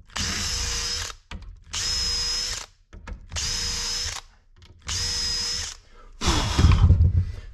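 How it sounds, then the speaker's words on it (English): A power drill bores hinge holes in wood aboard a wooden boat. Four loud, steady whining bursts of about a second each are separated by short pauses, and a rougher, lower grinding burst ends the run. "I'll just drill the rest of the holes."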